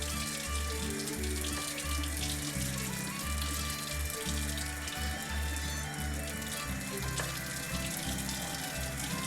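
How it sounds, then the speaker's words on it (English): Cold water runs from a kitchen tap after boiling potatoes, a steady splashing stream with rhythmic low gurgling pulses as it hits the sink, continuous and close throughout. "Let some cold water run."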